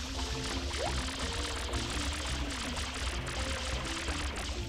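Water spraying at ghosts in Super Mario Sunshine: a steady, dense rushing gush that pours continuously through the whole stretch, loud and unbroken, with game tones layered faintly beneath.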